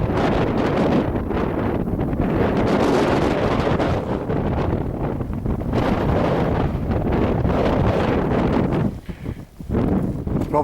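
Brisk north-northwest wind buffeting a microphone on open moorland hills, a loud continuous roar with gusting surges that dips briefly near the end, with no clear voice over it.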